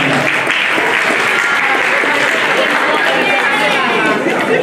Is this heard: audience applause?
yes